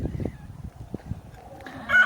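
A rooster crows near the end, a rising call over scattered low clucking from ornamental chickens and farmyard noise.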